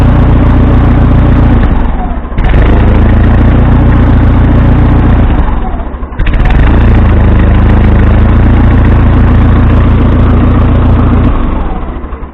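An old Ford engine runs rough on half choke, loud and close, with an uneven chugging clatter that drops out briefly twice before picking back up.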